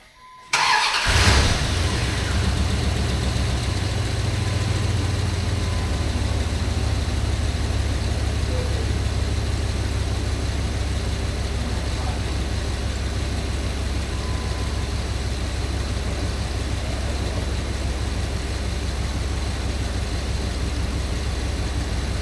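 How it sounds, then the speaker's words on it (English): A pickup truck engine cranks briefly, catches and fires up, then settles into a loud, steady idle with a deep continuous rumble that carries on unchanged to the end. "Let's fire the engine up"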